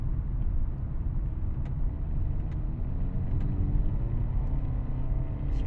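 A 2024 Hyundai Elantra N with an 8-speed transmission driving on an empty evening road, a steady low engine and road rumble from inside the cabin with a few faint, brief shift blips.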